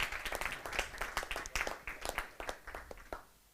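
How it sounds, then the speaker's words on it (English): Workshop audience at a RoboCup MSL session applauds the organizers with distinct, moderately close hand claps in a brisk, uneven rhythm that thins out and fades near the end. "give a big round of applause, and I mean a big round of applause, for the real organizers"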